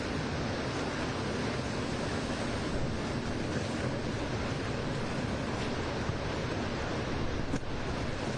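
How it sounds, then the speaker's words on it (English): Gusty wind blows across an outdoor tennis court, a dense continuous roar of wind buffeting the microphone with no letup. "Big gusts blowing in from the west and swirling around this bowl"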